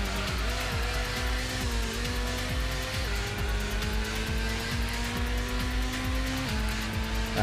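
A TVR Cerbera race car in the PS1 game Gran Turismo, its engine droning loud and steady through gear changes with repeated tire squeals as it takes corners, no voices.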